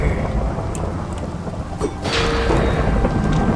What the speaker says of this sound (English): you can make it thunder!